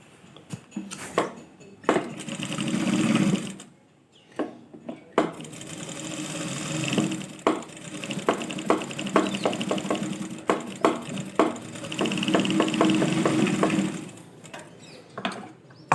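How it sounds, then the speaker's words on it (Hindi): A sewing machine stitching fused fabric along a shaped skirt belt, running in short bursts of rapid mechanical chatter broken by brief pauses and handling clicks, close and fairly loud. "फिर ऐसे स्टिचिंग करो ये सेप से ही"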